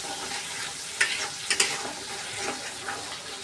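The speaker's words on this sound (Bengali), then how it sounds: "এখন আবার মাছ বোনা বসিয়ে দিয়েছি মাছ বোনার মশলা কষানো চলছে" Spice paste for a rohu fish curry frying in a pan, giving a steady close sizzle broken by a few sharp scrapes of stirring, with no talk.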